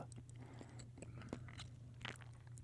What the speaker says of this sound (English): This video is going to have some gum chewing in it